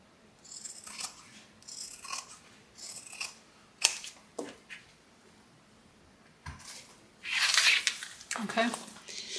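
Scissors snip through fabric for a sewing project. Several separate, fairly quiet cuts come in short clusters, with a crisper, louder stretch near the end and someone talking quietly between them.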